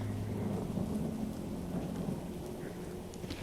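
Steady rain patters with low rolling thunder in The Walking Dead: Saints & Sinners video game, a continuous dense wash of drops under a deep rumble, without voices.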